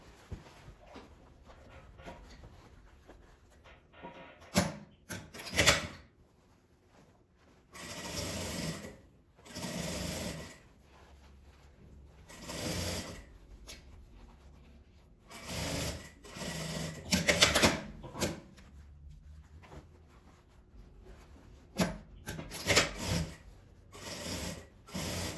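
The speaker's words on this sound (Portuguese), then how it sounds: "Agora eu vou passar uma costura na beiradinha" A sewing machine stitches along the edge of a piece in repeated bursts of whirring, each lasting one to two seconds, with quiet pauses and small handling noises between them. The machine is close and there is no talk.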